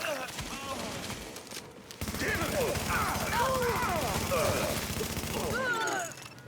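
Rapid video game gunfire rattles in dense bursts, with sustained automatic shooting through the middle, fairly close, while a voice talks over the shots.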